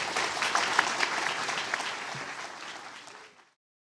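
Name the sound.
audience applauding panelists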